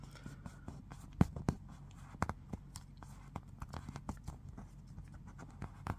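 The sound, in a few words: creasing an origami paper fold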